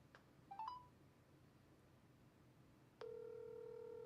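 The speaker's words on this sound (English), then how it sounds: "make a phone call." Faint telephone keypad tones: a couple of quick dialing beeps early on, then a steady dial tone that starts after a short pause and holds to the end, with no talking.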